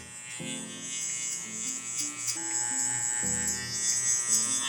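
Electric hair clippers buzz steadily while cutting a taper blowout on a barbershop client, a continuous close motorized hum with slight shifts in pitch as the blade moves through the hair.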